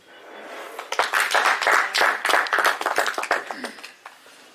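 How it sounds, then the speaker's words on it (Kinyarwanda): An audience claps and applauds at a book launch: dense, steady clapping that swells quickly, holds loud for several seconds, then thins out toward the end. "Tubongera amashyi."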